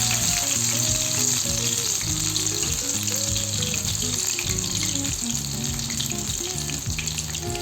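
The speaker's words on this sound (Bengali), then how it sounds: "আমি আঁচ কমিয়ে একটা একটা করে পিঠালির মধ্যে দিয়ে তারপর শিমগুলোকে তেলের মধ্যে দিয়ে দিচ্ছি।" Flat beans dipped in rice-flour batter frying in hot oil over low heat, a dense, continuous bubbling sizzle under steady background music.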